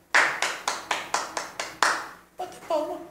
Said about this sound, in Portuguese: Bater palma.